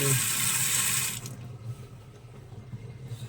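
A leaking water tap runs in a steady splashing stream for about a second, then cuts off, leaving quiet low background hum with faint knocks.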